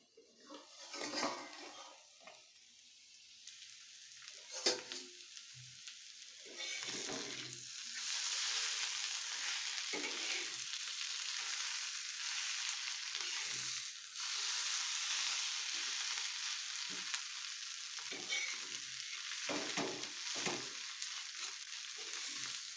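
Spiced yellow potatoes fry in a pan as they are stirred, a steady broadband sizzle holding throughout with a few louder scraping and clinking stirs near the start and again later; no talking.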